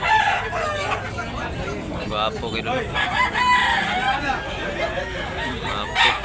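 Roosters crow repeatedly at a busy rooster market in Tabunok, Talisay, Cebu, loud and close, with clucking and crowd chatter around them and someone talking over the birds.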